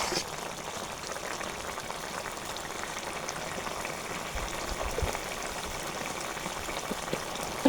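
Curry with mola fish simmering in a pot, a steady close bubbling and sizzling hiss that holds evenly the whole way through with no talk over it.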